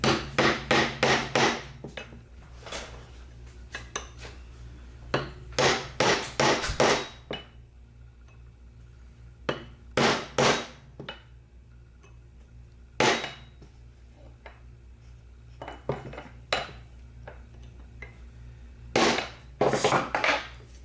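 Hammer tapping a roll pin through an AR-15 gas tube with a 1/16 inch punch: clusters of sharp metallic strikes in quick bursts separated by pauses, close and fairly loud, with no talking.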